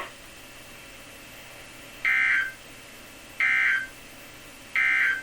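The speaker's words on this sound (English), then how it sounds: "This concludes the weekly test of the warning alarm system." Three identical loud electronic alarm tones from the weekly EAS warning-system test on a weather radio broadcast, each lasting about a second and evenly spaced over a low background hiss.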